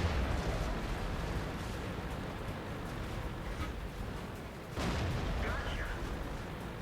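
A British FV4202 tier 10 medium tank in World of Tanks firing its gun while moving, a single sharp boom standing out over a steady low engine and track rumble, with someone talking throughout.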